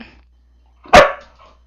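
A pet dog gives a single sharp, close bark out of near silence, followed by a faint trailing sound.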